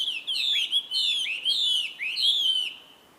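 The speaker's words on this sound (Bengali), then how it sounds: "পাখিদের কিচিরমিচির," In a forest, one bird repeats a bright, sweeping whistled chirp in four quick phrases. The calls are clear and fairly close against a quiet background.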